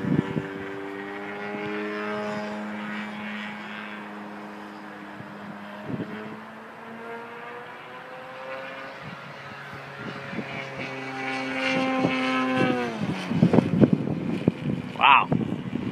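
A 103-inch 3DHS 330SC radio-controlled aerobatic plane with a ZDZ 112 petrol engine drones steadily, its pitch climbing into a loud, ripping roar as it takes off, while people talk nearby.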